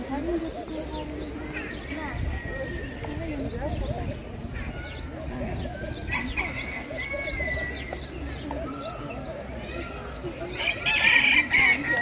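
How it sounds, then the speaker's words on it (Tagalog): Varied birds calling all at once in a park in Isfahan, Iran, a rooster crowing among the chirps and whistles, with someone speaking over the dense, continuous chorus. "naririnig naman ninyo kung anong mga naririnig yung ingay ng sari-saring huni ng"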